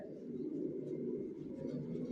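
Racing pigeons of the Johnson line coo quietly in a loft on one floor of a five-storey house, a faint low continuous murmur with no other distinct sounds.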